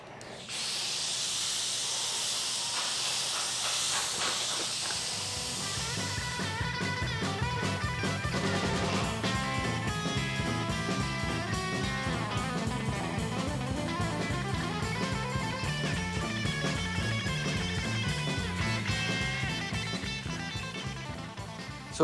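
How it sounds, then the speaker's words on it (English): A spray gun lays sealer over bare metal on a 1949 Meteor, a steady close hiss of air and atomised paint that runs continuously with slight pulsing as the gun moves, with no talking. "we'll give it 1 light coat over the bare metal and then 1 full coat over everything"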